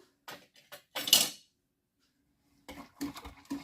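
A spoon stirs yeast, sugar and salt into warm water, making a few quiet clinks and scrapes against the bowl, then a pause before another short run of taps and swirls.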